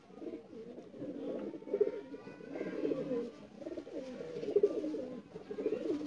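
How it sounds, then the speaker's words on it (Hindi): A Sialkoti quail pigeon coos nearby in soft, throaty rolling phrases that repeat in low pulses, with faint bird chirps in the background. "आपको शौक करवा रहे हैं सियालकोटी बटेरे कबूतर का।"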